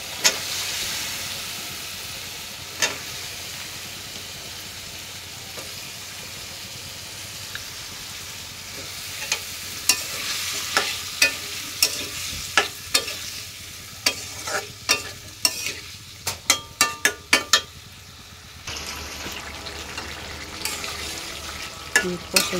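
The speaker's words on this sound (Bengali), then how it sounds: "কষাইতেছি" Potatoes stir-fried in a pan alongside fried fish give a steady low sizzle, broken by sharper scrapes and clacks of a spatula that grow more frequent toward the end.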